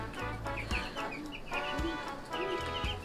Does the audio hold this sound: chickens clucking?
yes